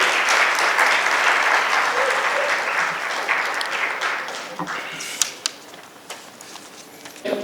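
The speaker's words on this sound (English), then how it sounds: "A round of applause for our panelists." Audience applause for the panelists at an insurance summit tech panel, a dense, sustained clapping crowd that rings out steadily, then thins and fades into a few scattered claps near the end.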